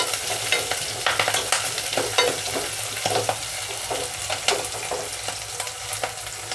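Chopped green chillies and onions fry in hot oil in a pan, a steady sizzle broken by frequent scraping strokes of a spoon stirring, close and fairly loud, with no voices.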